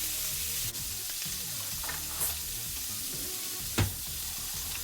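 Pork for fajitas searing in a hot pan, a steady crackling sizzle that runs throughout, with a few brief sharper pops and spits standing out over the hiss.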